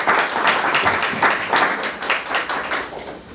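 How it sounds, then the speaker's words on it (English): Audience applause at a press conference for an official launch event: dense, steady clapping from a crowd, fairly loud and close, continuing throughout without talk. "I hope you'll give them a round of applause"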